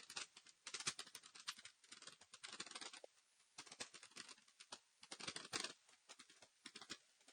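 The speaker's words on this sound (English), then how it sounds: "Just typing really fast." Rapid typing on a computer keyboard, dense bursts of quick key clicks with short pauses, close and fairly quiet, no talking.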